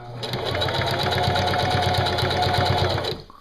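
A sewing machine runs a rolled hem along the factory edge of decoy bag material, a steady rapid needle chatter for about three seconds, close and loud, then stopping abruptly.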